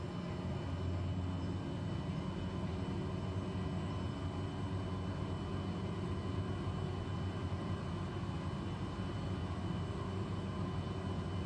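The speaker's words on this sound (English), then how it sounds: "this is going to be the most gung-ho landing I'd have made all day" An airliner comes in to land in Microsoft Flight Simulator 2020, a steady broad engine and airflow roar holding at an even level for the whole stretch, with no talking.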